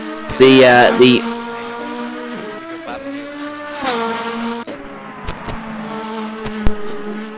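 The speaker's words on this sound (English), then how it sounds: "As we look at McLaughlin now rounding the hairpin" Indy Lights race cars in a virtual motorsport racing game, their engines droning and shifting pitch steadily throughout, with a louder burst of revving near the start and a few sharp clicks later.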